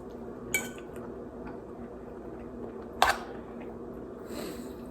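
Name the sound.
spoon scooping rice from the bottom of a rice cooker pot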